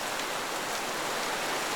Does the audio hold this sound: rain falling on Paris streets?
yes